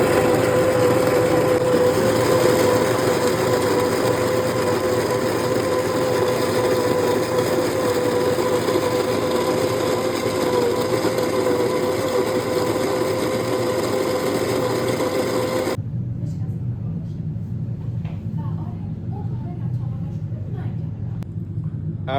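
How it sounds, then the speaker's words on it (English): An electric coffee grinder set to 20 runs through dark brown roasted beans with a loud, steady droning whir for about sixteen seconds, then cuts off, leaving a lower hum and faint rattling. "We are plugging in the machine. Our setting is going to be 20 for grinding."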